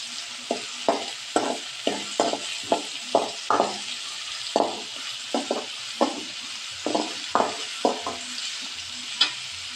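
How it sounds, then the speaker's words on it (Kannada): Village-style beans palya frying in a pan, a steady sizzle punctuated by repeated spoon scrapes and stirring knocks at an uneven rhythm, close and fairly loud, with no talking. "ಹಾಕಿಬಿಟ್ಟು ಅದನ್ನು ಫ್ರೈ ಮಾಡಬೇಕು. ಫ್ರೈ ಆಗ್ತೈತಿ."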